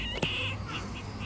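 A baby cockatoo gives a brief raspy, screechy call, close and fairly loud over steady indoor background hum.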